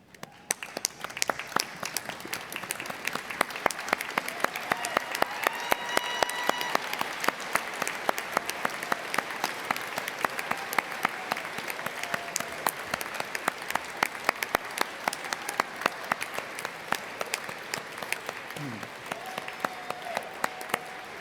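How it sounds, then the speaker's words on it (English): Graduates and guests at a university science and technology graduation ceremony give sustained applause in a large hall, a dense even clapping that continues steadily for about twenty seconds. "join me in showing your thanks with a huge round of applause"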